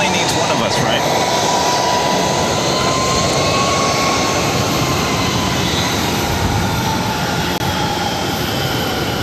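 An airplane taking off from runway 22 right at Boston Logan airport, a loud sustained engine roar with a rising whine, heard continuously at a distance.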